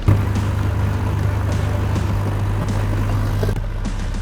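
A 3.5-litre two-wheel-drive Digitrac tractor pulls a 7-foot rotavator, its engine droning steadily with a constant low hum and scattered clatter before the sound drops away near the end.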